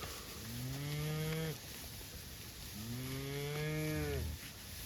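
Two long, deep moos from well-fed cattle out on grass pasture, drawn out and sliding, heard at moderate distance over a steady outdoor background hiss.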